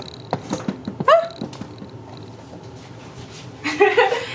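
A young, newly spayed pet cat gives a few short, excited chirping meows near the start and a louder squealing cry near the end, amid light rustling and handling noises, close by.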